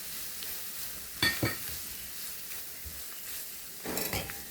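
Onion with turmeric, chilli powder and coconut crushed with garlic sautés in a pan, giving a soft, low sizzle broken by a couple of brief bursts of stirring and scraping.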